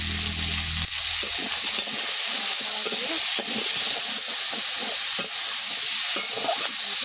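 Pigeon fish with tomato and potato sizzles and fries in a pan while being stirred, a loud steady hiss with scattered scraping and clinking of the spoon; a brief low hum fades out in the first second.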